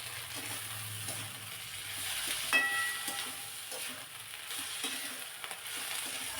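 Drumstick flowers stirred into frying onion in a pan: soft sizzling runs throughout, with scraping stirs and a few clinks of the utensil against the pan, close and fairly quiet, no talking.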